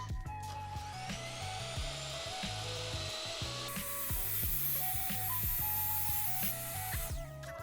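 A power tool cuts through metal rods with a harsh, repetitive rhythmic rasp, close and loud, each stroke pulsing at a steady pace with a high whine joining midway.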